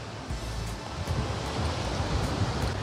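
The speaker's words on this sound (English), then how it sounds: "Oh, wind." Steady wind gusting at a Thai beach near sand barriers, a continuous broadband rush with low buffeting rumble against the microphone, mixed with distant surf.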